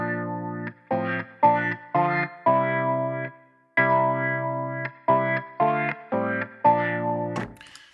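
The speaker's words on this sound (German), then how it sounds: "wenn ich jetzt hier ein Pattern auswähle, Mint Pop, dann kann ich hier direkt reingehen und kann das abspielen über Progression" Native Instruments Electric Mint session guitar playing its Mint Pop pattern: rhythmic strummed electric guitar chords in short repeated bursts with gaps, chorus and mild distortion effects, clear and alone, ending with a brief noisy click.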